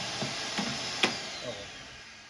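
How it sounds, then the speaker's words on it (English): A vacuum runs steadily during bee removal, sucking up bees, with a low whooshing drone and a few faint knocks and a sharp click partway through. "And the vacuum sucks. Completely sucks."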